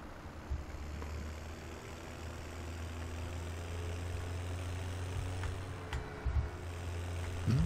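Vintage 1960s-70s tractor engine running in Farming Simulator 17, a steady low mechanical drone with a faint idle-like hum throughout, fairly quiet and without speech.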